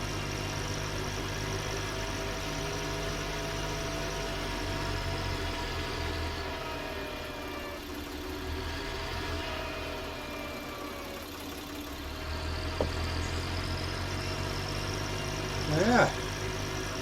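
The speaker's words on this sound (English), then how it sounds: "quite happy with our tractor" A Fendt tractor engine idles steadily with a low, even diesel rumble and faint mechanical whine, a brief knock or clatter near the end, with no talk.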